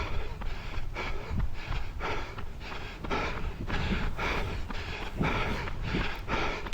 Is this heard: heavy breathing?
yes